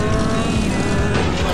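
Cars race in the video game Soccer Rally 2, giving a dense, continuous roar of revving engines with shifting pitch and occasional tire noise, loud and steady throughout without pauses.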